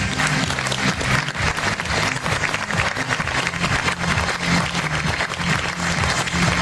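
Gala crowd at a beauty pageant applauds steadily as a regional Miss is welcomed, dense loud clapping layered over pulsing low music throughout.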